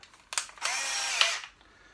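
A DeWalt power drill whirs steadily for about a second, biting into material with a brief spin-up and tapering off, close by with no talking.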